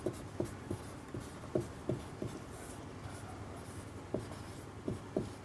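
Pen scratching on paper as notes are written during a lecture, a quiet run of short irregular strokes and scrapes with faint room tone behind.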